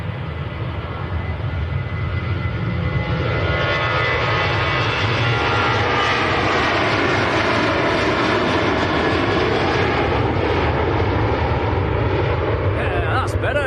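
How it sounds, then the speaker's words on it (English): A Ryanair jet bound for Warsaw departs runway 23L at Manchester Airport, a loud continuous engine roar that holds steady throughout, heard from outdoors without speech. "First departure off 2-3 left is the Ryanair."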